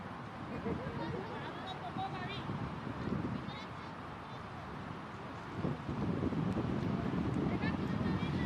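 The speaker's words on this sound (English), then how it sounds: "Hear the noise of the wind buffeting around Derby." Steady wind roars and buffets across a cricket ground in Derby during a women's T20 warm-up match, a dense continuous rush filling the whole clip with no clear talk over it.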